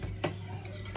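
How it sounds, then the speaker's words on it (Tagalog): A whisk scrapes and stirs a filling in a pan over medium heat. The strokes come as soft rhythmic taps with a faint sizzle beneath, close and quiet, with no talking. "continue lang po natin i-whisk"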